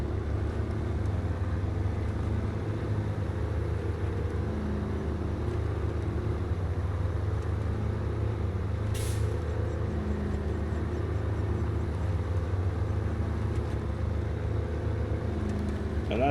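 A modded DCB US-K900 military truck, an M939 type, drives in SnowRunner with a steady, continuous low engine drone and rumble. One brief sharper sound cuts in partway through.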